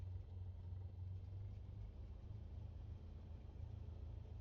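A light aircraft's piston engine idles just after start in Microsoft Flight Simulator 2024, giving a steady, low, droning rumble that stays even throughout.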